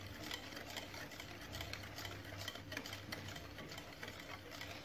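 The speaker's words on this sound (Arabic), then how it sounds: "الخلاط اليدوي" Electric hand mixer whirring steadily through chocolate cake batter, a continuous close motor hum with faint rattling and no pauses.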